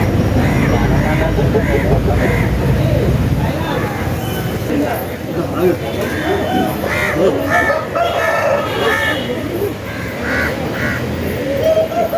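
A native rooster crows repeatedly at a busy Saturday country-chicken market in Mamidada, its calls rising over steady crowd noise and ongoing bargaining talk.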